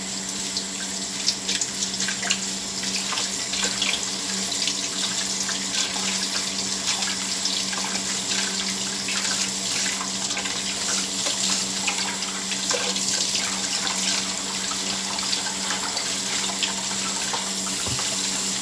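Water runs steadily from a kitchen faucet into a sink, a continuous close splashing hiss that holds at an even level throughout with no talking.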